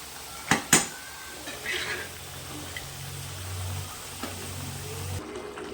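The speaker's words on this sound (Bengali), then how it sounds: "এবার আমি ঢাকনাটা সরিয়ে গ্যাসটা বন্ধ করে দেবো।" A pot lid lifted off simmering mung dal and fried papaya pieces dropped in: two sharp metallic clinks near the start, then soft clatters and scraping, with a low hum from the gas burner that stops near the end.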